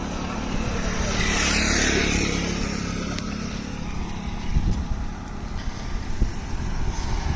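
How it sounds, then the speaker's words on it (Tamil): Vehicles speed along a busy main road, a steady loud roar of traffic with one swelling whoosh of a passing vehicle early on and brief sharper knocks later, with no talking. "மெயின் ரோடு அது ஒன்று தான் கொஞ்சம் பயமாக இருக்குது ஏன்னா வண்டி சருப்புரு சருப்புருன்னு வந்துக்கிட்டு இருக்கும்"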